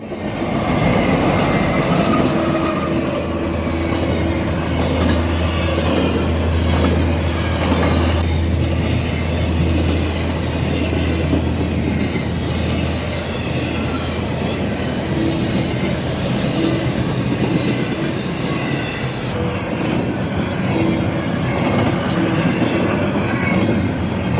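A railroad train rolling past in the snow, a loud, close, continuous rumble of wagons with rhythmic wheel clatter, a low engine drone and occasional squealing wheels throughout.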